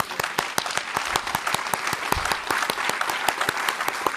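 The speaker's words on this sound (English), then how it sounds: "And I just want to give an applause to Hari Sharma." An audience at an arts festival panel gives a short, fairly sparse round of applause, with individual claps distinct and closely spaced, steady throughout.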